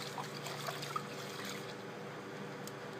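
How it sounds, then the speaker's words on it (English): Rinse water drains from washed rice through cupped hands, a soft, steady trickle and dribble of liquid with a few faint drips, close and quiet, with no talking. "I'm gonna use my hands as a makeshift colander, drain."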